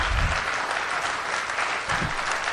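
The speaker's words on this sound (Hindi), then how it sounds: "एक बार तालियां और जोर से बजाइएगा फिर" Crowd applause at a live Hindi kavi sammelan (poetry gathering) in Panipat, brisk and fairly loud clapping from the audience, continuous through a short burst.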